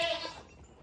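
A goat at morning breakfast lets out a single short, fairly close bleat that quickly fades.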